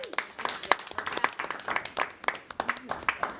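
A small audience claps in a round of applause for Lucille at a board of education meeting, a steady patter of hand claps mixed with talk, moderately near.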